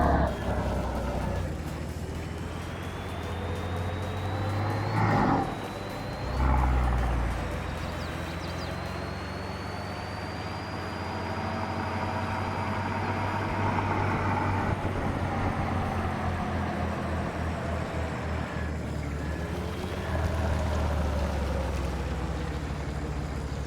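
A video-game truck with a 4.2-litre Nissan-inspired engine revs and drones steadily in Farming Simulator 22, rising and falling in pitch with a rough low rumble throughout, no voices present.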